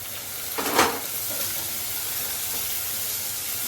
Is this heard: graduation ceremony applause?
no